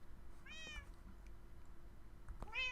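Two separate cat meows, a small kitten in the Minecraft video game, sound over a quiet low background hum, with a short gap between them and no talking.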